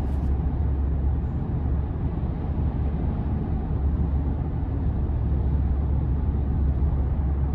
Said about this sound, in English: light throttle, it has a very nice rumble to it that's strong yet quiet